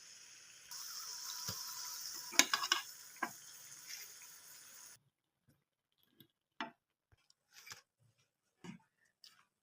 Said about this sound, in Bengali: একইভাবে আবারও সব ভেজে নিচ্ছি।